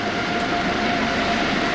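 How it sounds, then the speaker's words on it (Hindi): Formation of Sea King helicopters flying over the Pakistan Day parade, a steady loud broadband engine and rotor roar with a constant tone, continuous throughout with no speech. "सीकिंग हेलीकॉप्टर्स की फॉर्मेशन, जिसे शार्क के नाम से पहचाना जाता है"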